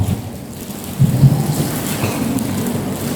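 Heavy rain pours steadily on surfaces while low thunder rumbles and swells, loud and close, with no voices, near a mosque.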